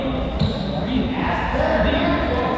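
A basketball bounces on an indoor court, the thuds coming under people talking and calling out nearby.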